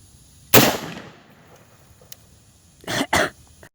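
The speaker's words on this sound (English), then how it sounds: "I'm going to fire 1 shot and then check the target." A 5.56 full metal jacket rifle round fired at a homemade body armor plate: one sharp loud crack early, then quiet, followed by a closer pair of quick bursts near the end.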